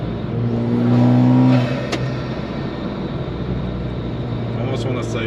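A budget drag race car accelerates in third gear from inside the cabin, engine droning and rising in pitch, then settling into a steady roar with road noise.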